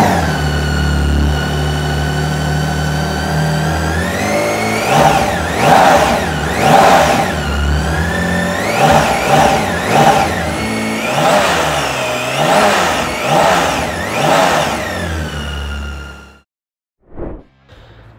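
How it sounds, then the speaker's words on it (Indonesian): BMW K1600B six-cylinder motorcycle engine idling loudly, then revved repeatedly in sharp rising and falling bursts before cutting off, with one last short blip after a pause. "Sekarang kita dengerin suara mesin dari BMW K1600B"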